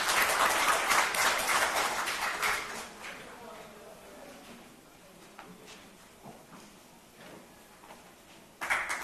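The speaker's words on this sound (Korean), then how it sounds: "큰 박수로 맞이해 주시기 바랍니다." Audience at a policy forum on the wellness industry applauds an official stepping up, starting as a loud burst of clapping that thins and fades, then scattered claps and room noise before a brief rise at the end.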